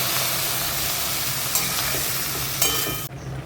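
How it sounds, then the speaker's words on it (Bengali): Boiled lentils poured onto banana flower frying in a pan, producing a steady close sizzle with stirring scrapes and a couple of clatters before it cuts off. "এর উপরে আমি ডাল সেদ্ধ দিয়ে দিচ্ছি।"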